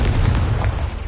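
A Confringo fire spell blasts in Hogwarts Legacy, a loud, dense boom with heavy low-end rumble that stays strong through the whole short burst.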